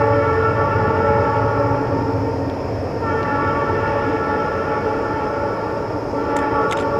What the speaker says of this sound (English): Oh, you gotta love the freight trains.